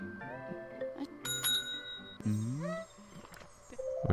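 A bell accessory ringing in the garden game Viva Piñata, several bright metallic dings with a ringing tail, close and clear among game sounds and animal calls.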